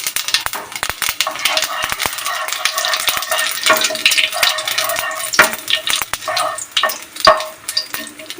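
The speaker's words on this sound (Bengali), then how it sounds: "তেলটা ভালো করে গরম হয়ে এলে এতে দিয়ে দেবো আমরা একটা গোটা তেজপাতা, একটা শুকনো লঙ্কা আর একটু গোটা জিরে।" Bay leaf, dried chilli and cumin seeds frying in hot mustard oil, a close, steady crackling sizzle with sharp pops and spits throughout and occasional utensil scrapes.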